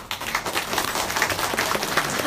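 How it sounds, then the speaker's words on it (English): Audience applause for guest speakers at a Vietnam Human Rights Day gathering: a steady, dense wash of many hands clapping that continues evenly throughout without pause. "Please let's give them another round of applause."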